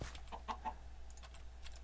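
A Minecraft chicken gives a few short, quiet clucks in quick succession against a faint background hum.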